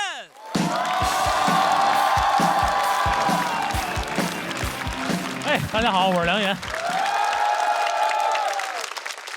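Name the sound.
audience applause and cheering welcoming a stand-up comedian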